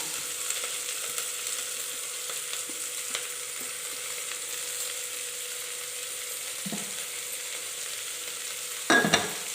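Onions and green chillies with salt sauté in a pressure cooker for a quick egg curry, giving a soft, steady sizzle with faint scraping stirs and a sharper clatter near the end.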